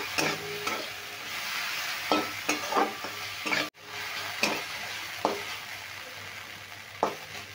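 Vegetables being stirred and fried in a pan for kachori filling, a continuous close sizzle broken by repeated spatula scrapes every second or so, no talk.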